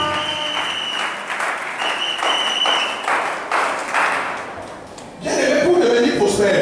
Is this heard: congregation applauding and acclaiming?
yes